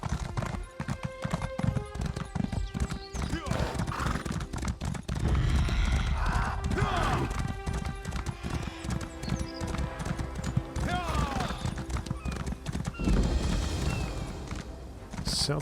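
Horse galloping in the game Elder Scrolls Online: steady, close rhythmic hoofbeats clatter over game music, with a snort or whinny and a voice talking at times.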